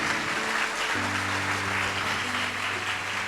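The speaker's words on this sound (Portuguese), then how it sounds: "Pode aplaudir o Senhor Jesus." A church congregation claps together in sustained, steady applause filling the room, with a low organ or keyboard chord held underneath.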